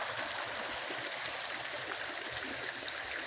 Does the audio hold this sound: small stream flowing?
yes